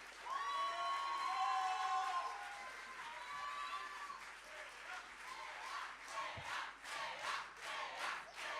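A concert crowd at a student music showcase applauds and cheers loudly and steadily, with shouts and whoops rising over dense clapping, the roar easing slightly but continuing throughout.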